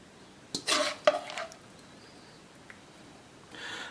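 Dishes and cutlery clatter as beef in black bean sauce is served, a few sharp clinks and scrapes in quick bursts, close and fairly quiet, followed by a soft rustle.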